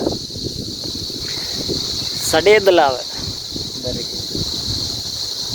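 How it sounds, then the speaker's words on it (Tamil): Steady wind noise roars across the whole stretch, with a brief burst of speech near the middle riding over the rushing air. "காற்று தான் கேட்குது."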